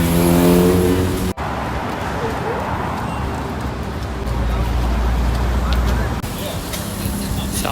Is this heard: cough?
no